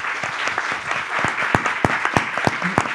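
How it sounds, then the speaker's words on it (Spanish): Audience applause after a panel discussion on media and polarization, steady clapping from a modest crowd with several sharp, close individual claps standing out. "un aplauso muy fuerte a María Jimena."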